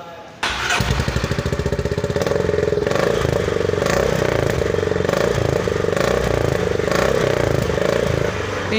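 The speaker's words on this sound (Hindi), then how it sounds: "आइए इसके एग्जॉस्ट नोट से चेक करते हैं." A Honda CB350 350cc motorcycle starts up and settles into a loud, thumpy, rapid exhaust beat, close and steady for several seconds before cutting off near the end.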